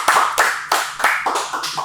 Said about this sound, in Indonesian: Tepuk tangan aja dulu.